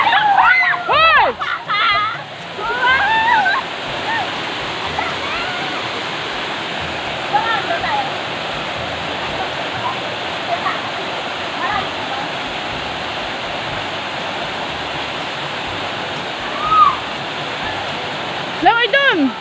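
Tagupak Falls pours in a steady, loud roar of falling and splashing water that fills the whole stretch, with people shouting and talking over it at the start and end.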